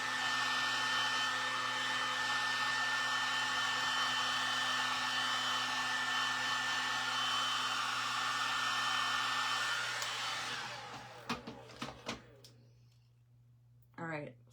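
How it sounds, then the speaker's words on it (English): A heat tool blows hot air in a loud, steady whoosh with a constant hum for about ten seconds, then cuts off, leaving a few clicks and handling noises. "this heat tool runs super hot"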